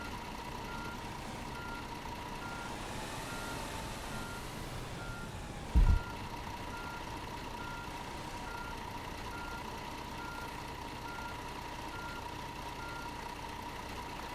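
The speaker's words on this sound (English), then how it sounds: "If I quickly just put it in reverse, try and get my bus back in the depot the best that I can." In Tourist Bus Simulator on PS5, a bus idles with a steady engine hum while a repeating reversing beep sounds evenly throughout, joined by a brief low thump midway.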